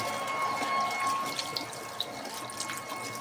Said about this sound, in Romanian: Eu acum mă spăl pe mâini.